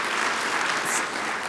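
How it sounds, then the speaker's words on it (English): A conference audience at a spring ADRC meeting gives a short, steady burst of applause, even and moderately distant throughout with no voices on top. "So a huge round of applause to Bud for keeping this going."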